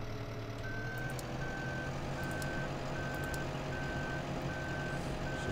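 A vehicle reversing in the farming game Court Farm, giving regular evenly spaced warning beeps over a steady low engine drone, continuous and unaccompanied by speech.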